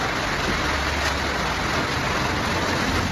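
Steady, dense hiss of rain falling near Tehri in the Indian hills, continuous and fairly loud, with a faint low rumble underneath.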